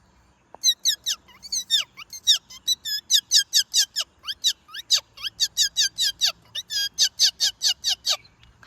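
A boy imitates a parrot with a long run of sharp, high squawks and chirps in quick, even succession, loud and close, with no other sound.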